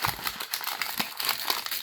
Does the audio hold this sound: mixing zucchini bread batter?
no